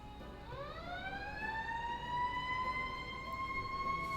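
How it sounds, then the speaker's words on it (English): An emergency vehicle siren wails and rises steadily on a downtown street in Watsonville near a fire station, loud and sustained with no talk over it. "And also the sirens, that'll keep happening."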